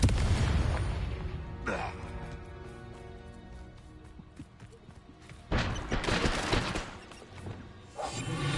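Confringo fire spell explosions in the Hogwarts Legacy video game, two separate booming blasts with decaying rumble between them and another burst starting at the end.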